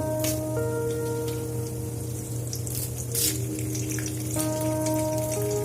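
Mustard seeds and urad dal sputter and crackle in hot oil in a pan, a steady dense sizzle with scattered pops. A faint hum runs under it the whole time.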